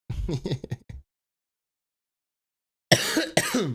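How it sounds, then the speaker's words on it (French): A burst of harsh, rough coughing up close, then a long silence, followed by another short fit of coughs. "j'en ai marre de tousser"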